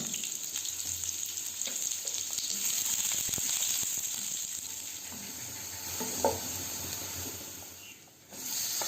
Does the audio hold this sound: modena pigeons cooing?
no